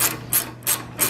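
Three or four quick ratchet clicks in an even rhythm ring out up close while a brake stay is removed from a 1972 Honda CT70 motorcycle, with no voices.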